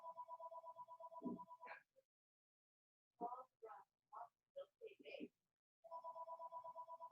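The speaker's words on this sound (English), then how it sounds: "waiting for that phone to stop ringing in the other room" A telephone rings in another room with a steady electronic trill, in two bursts at the start and end, separated by a stretch of quiet talk and silence.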